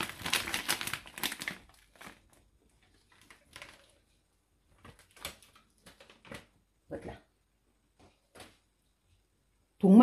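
A plastic bag of herb mixture for homemade balm is squeezed and crumpled, a dense crinkling burst at first and then scattered soft rustles and taps, close and otherwise quiet.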